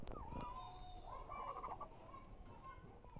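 A Plymouth Rock heritage rooster gives soft, warbling clucking calls, close by but quiet, over low background noise.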